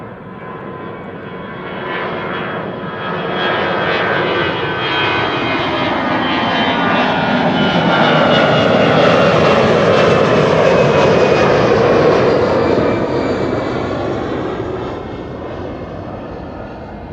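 Jet airliner engines roaring on a runway at Amsterdam Schiphol Airport, a loud broadband rush that swells to a peak mid-clip and then slowly fades, with no voices.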